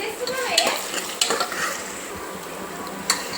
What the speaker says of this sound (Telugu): ఉల్లిపాయ మంచిగా వేగింది కదా